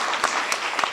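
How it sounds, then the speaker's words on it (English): Short burst of audience applause at a community college panel event, crowded clapping with a few distinct louder claps, brief and fairly close. "Let's give them a round of applause."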